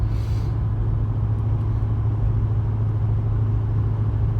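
A tuned 2018 Ford F-350 Power Stroke diesel pickup with a deleted, free-flowing exhaust cruises on a mountain road, a steady loud low rumble of engine and road noise that runs unbroken, with no talking.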